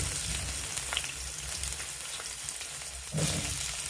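Meat sizzles and fries in a hot pan with garlic, a steady crackling hiss throughout and a brief louder burst of sizzle near the end, with no talking.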